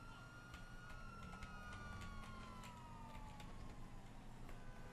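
A police car siren wails in the Grand Theft Auto 5 video game, a faint, slowly falling tone over a background of game noise and clicks.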